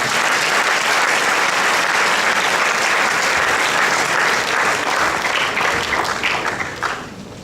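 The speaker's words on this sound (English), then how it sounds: "Everybody, a round of applause to Mr. Gunathilaka." Sustained, dense applause from an audience at a boys' school Shakespeare drama competition awards ceremony, loud and even before tapering off at the end.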